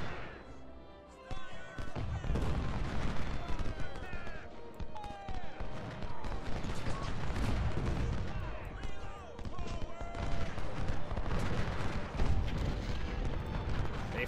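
Civil War infantry volleys in the game Ultimate General, 2nd Bull Run, dense rolling crackle of musket fire and booms continuing throughout, loud and layered, with a voice speaking over the battle.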